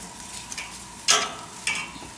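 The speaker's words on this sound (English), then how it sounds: "Now we're just grilling along here." Baby purple eggplant, tomato, Vidalia onion and endive sizzling on a grill, a steady soft hiss with a couple of sharper bursts of spitting, close by and without talk.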